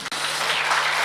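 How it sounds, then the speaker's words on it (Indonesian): Audience applause at a stand-up comedy show in Indonesia, a steady dense wash of clapping that fills the whole short moment after a brief dropout at the start, with no voices on top. "Wah penuh ya, tepuk tangan dulu buat kalian juga."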